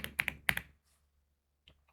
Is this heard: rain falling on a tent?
no